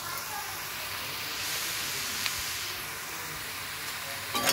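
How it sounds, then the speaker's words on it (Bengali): Food sautés in a pan with a steady, soft hiss and sizzle that holds evenly throughout, fairly quiet and close, with no clear speech over it. "এখন আমি এটা কষিয়ে নেব"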